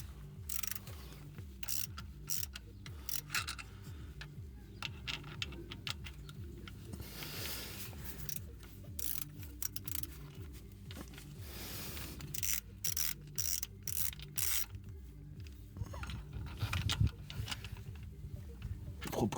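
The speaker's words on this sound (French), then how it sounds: "Je serre en croix." Hand ratchet tightening bolts in a cross pattern on a vehicle starter, with long runs of fast, close clicking in repeated bursts over a steady low mechanical hum.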